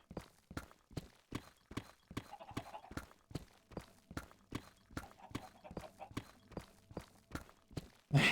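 Horse hooves in the Minecraft video game clip-clop in a steady, even walking rhythm, about two dozen sharp close steps, with a brief burst of louder noise at the very end.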